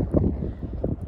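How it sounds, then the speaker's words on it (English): Gusty wind buffets the microphone in low, rumbling bursts, loud and close, outdoors on a stormy day, with no other clear sound. "It's a really windy day,"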